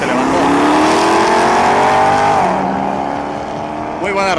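At a drag racing event, a 300 car launches from the start line, its engine roaring loud and close and climbing steadily in pitch before dropping back as it pulls away.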